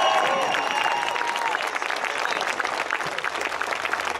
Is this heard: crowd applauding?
yes